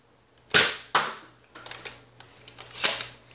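A Nerf Crossfire blaster fires regular Elite foam darts indoors: three sharp, close pops spread over a few seconds, with lighter mechanical clicks of priming and handling between them.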